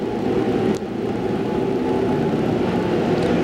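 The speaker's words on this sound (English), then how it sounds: "Car's still warming up the engines." Race car engines at a 1998 ASA AC-Delco Challenge Series event, the North Carolina Sweet Potatoes 400, warm up as a continuous, even roar that sounds somewhat distant, with no talk over it.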